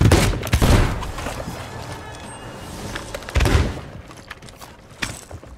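Ship cannons firing in the pirate game Sea of Thieves, with heavy booming volleys near the start and again mid-clip, plus a later single thud over rumbling sea and game ambience.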